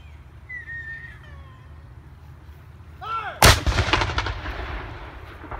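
A cannon fires in a single loud, booming blast that rolls and echoes for a couple of seconds, following a quiet outdoor stretch with faint distant noise and a brief animal-like cry just before the shot.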